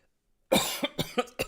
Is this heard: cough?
yes